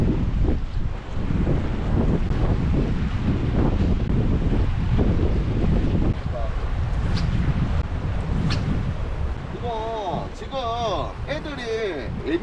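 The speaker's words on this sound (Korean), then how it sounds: "오늘 바람이 좀 불어서 그런가 좀 춥네요" Wind gusts buffet the microphone outdoors during a sea fishing trip for black porgy, a loud continuous rumble throughout, with a faint voice and some higher tonal calls toward the end.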